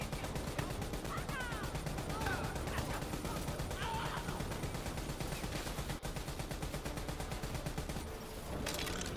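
Dense gunfire crackles through a Call of Duty Black Ops 3 campaign firefight, with rapid overlapping shots continuing steadily under a busy, loud game mix.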